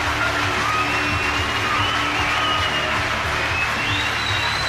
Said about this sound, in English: Vociferous crowd, of course,